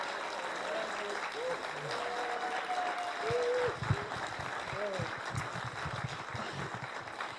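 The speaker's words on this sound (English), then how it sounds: "Give him a big round of applause." Audience applause at a motivational talk, a steady broad wash of clapping lasting several seconds with voices and cheering mixed in over it.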